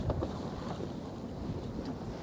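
A sailboat moves under sail with its engine cut, wind rushing over the microphone and water washing against the hull in a steady, close roar.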